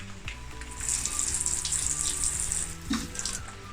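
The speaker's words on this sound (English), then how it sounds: "Then what I'm going to do is I'm going to water that." Water pours from a watering can fitted with a rose onto a seed tray, a steady, close sprinkling hiss lasting a few seconds with a brief dip and surge near the end.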